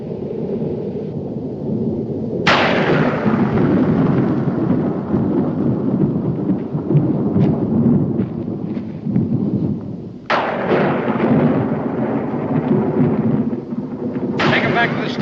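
Thunder in a thunderstorm booms loudly several times, each crack rolling into long rumbles over steady rain, with voices talking beneath.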